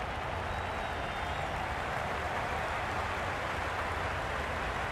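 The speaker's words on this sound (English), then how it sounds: "The crowd are really getting quite raucous." A raucous cricket stadium crowd in the video game Cricket 22 keeps up a dense, steady roar of cheering and clapping for the full five seconds, with no break or voice standing out.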